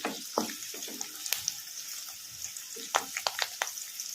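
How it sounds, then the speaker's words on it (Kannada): Sliced onions sizzle in hot oil in a pan while frying toward golden brown for hotel-style plain sherva, with scattered spatula scrapes and stirring clicks over a steady bright hiss. "ಗೋಲ್ಡನ್ ಬ್ರೌನ್ ಕಲರ್ ಬರೋವರೆಗೂ ಫ್ರೈ ಮಾಡ್ಕೊಂಬಿಡೋಣ."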